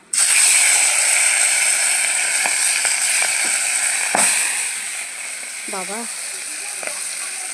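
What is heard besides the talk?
singi fish frying in hot oil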